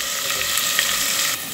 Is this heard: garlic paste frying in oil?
yes